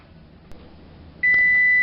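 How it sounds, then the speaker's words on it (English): A loud, steady electronic beep sounds after a quiet stretch of faint room noise, continuing without a break. "we gotta check it to see our timer went off."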